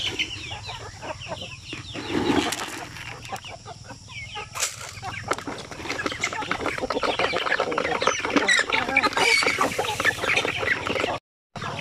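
Young chicks peep and cheep steadily at close range as they are fed, a busy chorus of high calls with some hen-like clucking mixed in, ending in a brief dropout.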